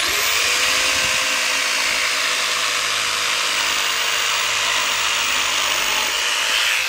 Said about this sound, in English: Here's the old jigsaw again.